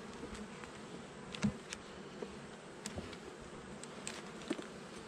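Honeybees drone steadily during a hive frame inspection, with a low, constant buzz throughout. A few louder bees zip briefly past up close.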